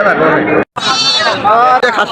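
A dairy goat bleats loudly and close at a livestock market, drawn-out wavering cries that nearly fill the moment, with people talking around it.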